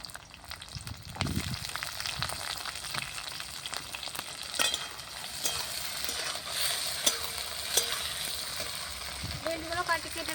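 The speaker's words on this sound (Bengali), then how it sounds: "এবার চিংড়ি মাছগুলো ভেজে নেব।" Large prawns frying in oil with onion on a clay stove, a steady crackling sizzle with stirring scrapes and occasional sharp pops, a voice briefly speaking near the end.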